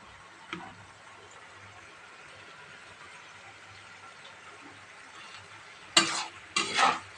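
Bottle gourd cooking in a pan with ground coriander and cumin, a quiet low simmer with faint stirring, then two short loud bursts of scraping and sizzling near the end.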